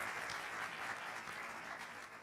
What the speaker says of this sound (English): I welcome you all on the dais with a resounding round of applause